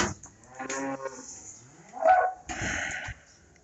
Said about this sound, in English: Cows are mad because I started this end first.